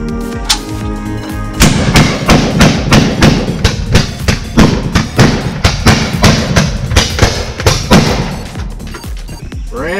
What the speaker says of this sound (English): got to witness a demonstration of the Gatling gun